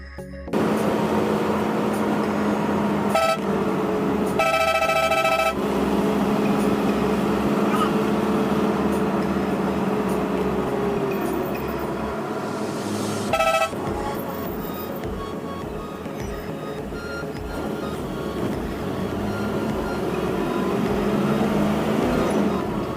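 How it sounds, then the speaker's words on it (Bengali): Air-suspension AC bus on the Dhaka–Noakhali road, its engine giving a steady, loud droning rumble with road noise throughout, plus a few brief rattles and clicks. "বাসের ইঞ্জিন সাউন্ড যারা শুনতে চেয়েছিলেন তাদের জন্য এই ক্লিপটি"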